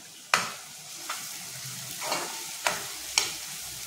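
Ginger garlic paste sizzling and being stirred in a hot pan while making a Malvani egg chutney, with several sharp scraping spikes from the spatula over a steady frying hiss.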